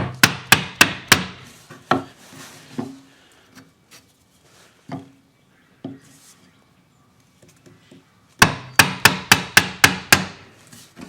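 Chisel struck with a mallet while chopping a mortise in walnut: a quick series of sharp, close knocks, then sparse scattered taps and quiet, then another rapid burst of blows.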